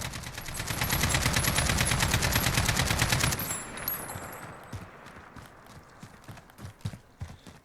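Sustained automatic fire from an RPK light machine gun in Call of Duty Modern Warfare, a dense rapid rattle of shots for about three seconds, then scattered shorter bursts and single reports that fade lower.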